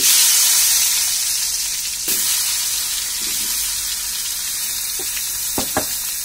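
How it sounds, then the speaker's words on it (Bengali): Eggplant slices coated in turmeric and salt drop into hot oil and sizzle steadily, with a few soft clinks and small crackles over the hiss and no talking. "এখন আমি তেলে দিয়ে দিচ্ছি।"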